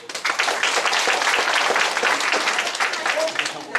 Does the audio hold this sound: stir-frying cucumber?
no